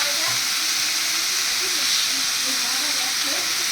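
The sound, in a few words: spice paste and tomato sizzling in a pan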